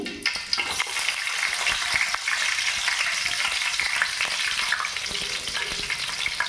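Sliced onions and other ingredients for egg rice fry in a generous amount of hot oil, giving a steady dense sizzle with occasional stirring scrapes, close and alone without speech.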